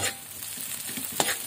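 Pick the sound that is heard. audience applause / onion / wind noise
onion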